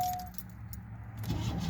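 Car keys jangle close by for a couple of seconds, a light metallic clinking set against a low interior rumble, from the keys of a 1992 Oldsmobile Ninety Eight Regency.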